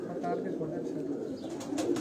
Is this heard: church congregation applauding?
no